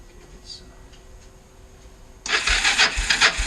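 An ATV's starter cranks on a weak, dead battery. After a couple of quiet seconds, a sudden loud, rough, sluggish cranking burst runs to the end.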